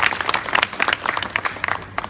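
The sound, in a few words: audience applause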